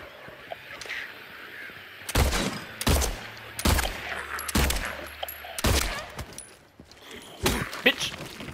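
Gunshots fired at creatures' legs in Silent Hill 2 (2024), a series of six or seven sharp, loud reports spaced roughly a second apart over a low, murky ambient background.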